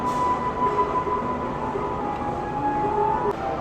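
The Sri Tanjung train stands at a platform of Lempuyangan station, giving off a steady, loud rumble and hum with a faint high whine and no voices.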